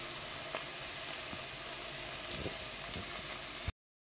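Chopped onion frying in olive oil in a pan, giving a steady soft sizzle and crackle with a few small pops throughout.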